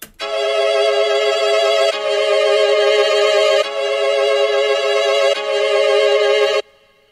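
A bright, buzzy synthesizer lead sample, unmixed, holds sustained tones in four long notes, loud and even, ending abruptly into silence.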